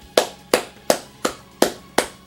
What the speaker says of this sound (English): Everybody give Caduce a clap for that pun.